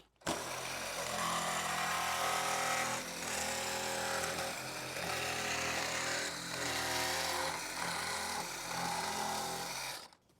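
Power saw cutting plastic on a Harley Davidson motorcycle during an audio install, a loud, close, continuous buzzing whine held for about ten seconds with small shifts in pitch as the blade moves.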